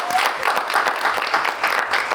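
Sustained audience applause at an Easter-eve variety show, dense steady clapping from a crowd filling the whole stretch at an even loudness.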